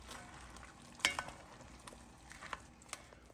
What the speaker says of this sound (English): While our onions are cooking